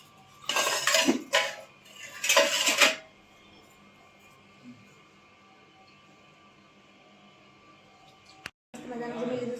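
Dishes and cutlery being washed by hand at home make two short bursts of clattering and clinking up close, followed by a long stretch of quiet room hum and a brief noise at the end.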